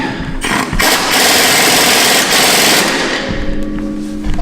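A pneumatic impact wrench tightens bolts on a UTV suspension lift, firing loud close rattling bursts, one short burst followed by a longer sustained hammering run that trails off.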